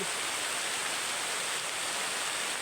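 Heavy rain pours down alongside running water, forming a dense, unbroken hiss that stays constant and fairly faint throughout.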